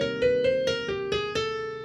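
An inverted bebop chromatic approach lick over a minor 7th chord plays as a short run of distinct plucked, sustained notes stepping through pitches, close and clear with no voices.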